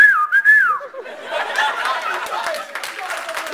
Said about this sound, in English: That was our wolf whistle, by the way.